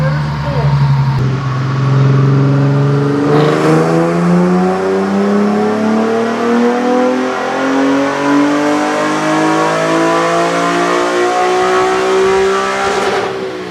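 An Infiniti G37 engine revs steadily upward in one long, loud pull on a dyno, its pitch climbing smoothly before dropping off at the end.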